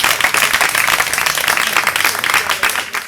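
A loud, dense burst of audience clapping at a theatre play launch, steady throughout with no talk over it.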